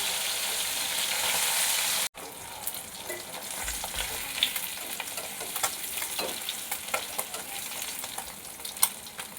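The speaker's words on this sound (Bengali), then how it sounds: "মাছগুলো একদিক ভালোভাবে ভাজা হয়ে গেছে, আর একদিক ভেজে নেব" Red bhola fish sizzles and crackles in hot oil, with scattered pops and spatters; the hiss drops out briefly, then resumes with sharp crackles as the fish is turned to fry the other side.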